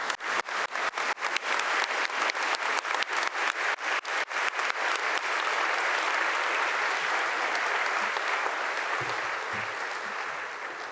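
An audience at a medical school white coat ceremony for the class of 2026 breaks into loud applause, starting as rhythmic unison clapping and then merging into a dense, sustained wash that slowly fades.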